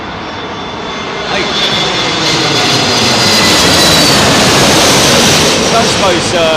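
An Airbus A320neo passes low overhead on approach to Heathrow's runway 27L, its engine roar building to a loud, broad rushing whine that swells and holds. A voice speaks once briefly.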